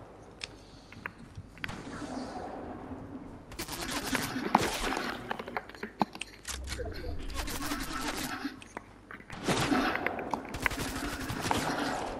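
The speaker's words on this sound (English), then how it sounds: "there's a bot shooting me here for some reason." Rapid bursts of gunfire from a bot in a Fortnite match crackle in repeated dense volleys, loud and close, interleaved with quieter gaps and occasional talking.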